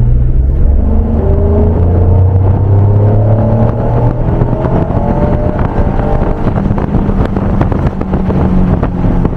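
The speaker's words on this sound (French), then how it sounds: "Tu as une belle petite côte ici où on va pouvoir accélérer." The engine of a 1991 Honda NSX with VTEC builds steadily as the car accelerates uphill without a gear change, its rising drone loud from inside the cabin with wind and road rumble.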